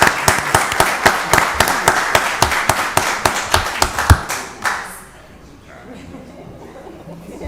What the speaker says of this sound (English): Let's give the principal and her staff a round of applause